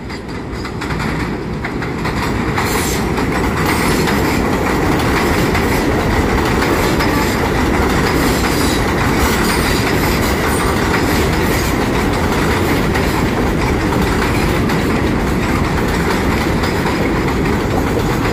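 An NYC subway A train rolls through Rockaway Boulevard station, a loud continuous roar with clickety-clack wheel rhythm and occasional squeal, close by and steady for the whole stretch.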